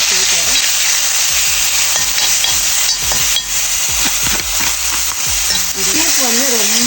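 White onion sizzling as it drops into hot oil, a loud continuous crackle with stirring scrapes and a few clinks throughout.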